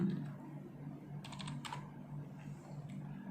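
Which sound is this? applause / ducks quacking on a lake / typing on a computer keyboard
typing on a computer keyboard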